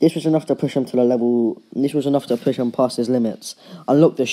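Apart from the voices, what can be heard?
None of the usual background noises is heard.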